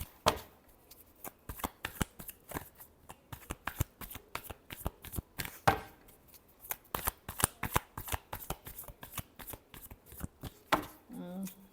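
Tarot cards being shuffled close up, heard as a long run of crisp, rapid riffling bursts with a steady rhythm and short pauses between them. A voice speaks softly near the end.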